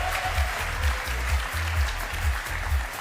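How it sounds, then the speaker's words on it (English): Esports audience applauding a team at a Counter-Strike tournament, steady dense clapping from a crowd in an event hall, continuous and fairly loud with no voices over it. "Guys, round of applause for Neo and FaZe."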